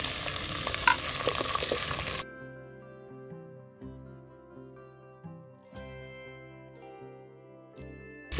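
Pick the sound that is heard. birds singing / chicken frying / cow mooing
chicken frying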